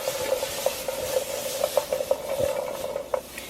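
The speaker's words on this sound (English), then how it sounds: "I'm gonna go and check on peppers. They're sizzling, which is good." Peppers sizzle in a pan with a steady hiss, broken by short scraping stirs and light clinks of a utensil.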